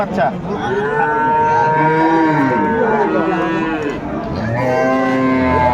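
Dairy cows and calves on a farm in Netrokona give loud, close, drawn-out moos, one call after another with only brief pauses between them.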